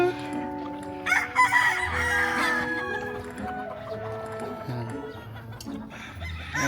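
Several gamefowl roosters crow loudly nearby at a gamefarm, their calls overlapping with clucking in the background.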